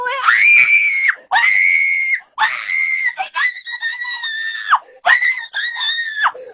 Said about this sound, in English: The child obviously reacts by screaming because no one wants to see that and then ends the live